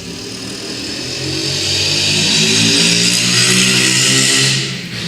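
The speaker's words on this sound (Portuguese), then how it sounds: "Devemos esperar depois do barulho da moto." A motorcycle engine passes close by, rising in loudness to a steady droning peak midway and then fading away, heard alone without talk.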